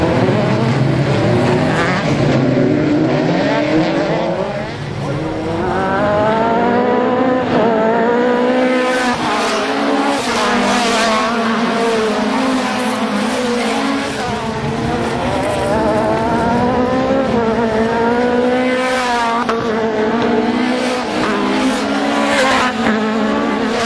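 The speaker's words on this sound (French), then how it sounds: "Avec le numéro 8, Sébastien Chiavone remporte sa finale B au volant de son propulsion." Rear-wheel-drive race cars compete in a B-final at an Is-sur-Tille track, engines revving loud and continuous with rising and falling pitch as they accelerate and shift, dense and close throughout.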